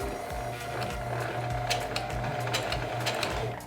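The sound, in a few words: sewing machine stitching a fabric sweatband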